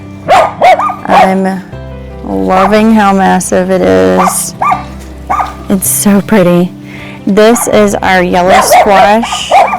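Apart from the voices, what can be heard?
neighbours' small Dachshund dogs barking in the background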